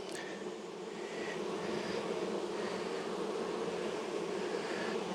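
Honeybees buzz around an open hive frame during an inspection, a steady dense hum close by with occasional louder individual bees passing near, no talking.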